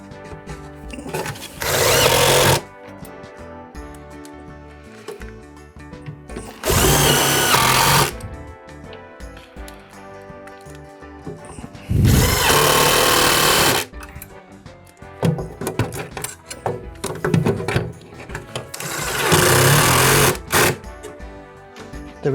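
A power screwdriver drives screws to fix replacement speakers into a Coomber PA cassette recorder, with four loud whirring bursts of a few seconds each separated by quieter handling noise.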